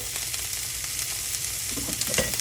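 Drained corn tumbles into a pan of sauteed, lightly browned zucchini, producing a loud continuous hissing sizzle with faint stirring crackles toward the end.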